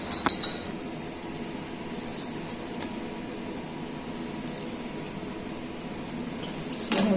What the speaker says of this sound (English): let me wash the electrode first